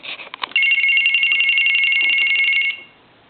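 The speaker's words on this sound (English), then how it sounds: "that's the regular piezo buzzer" A telephone's regular piezo buzzer rings in one steady, shrill electronic trill for about two seconds after a few short chirps, then cuts off into silence.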